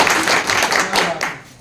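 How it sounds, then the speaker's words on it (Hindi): An audience at a meeting claps together in a short, loud burst of close, dense clapping that tapers off toward the end. "एक बार शानदार वाली ताली"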